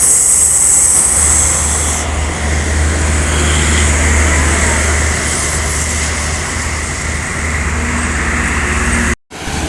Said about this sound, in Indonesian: dari arah Jakarta terpantau banyak kendaraan ekspedisi truk ya yang melintas